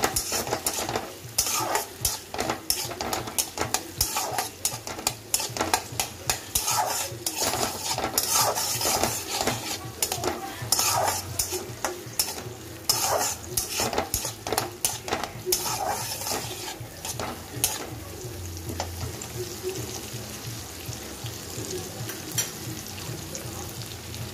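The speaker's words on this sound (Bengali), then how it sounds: "একটু ভালো করে এটা ভেজে নেব কাজু কিশমিশটা লাল লাল করে" Cashews and raisins fry in a pan for a basanti pulao, a continuous sizzle under busy scraping and clattering of a metal spoon stirring against the pan, loud and close.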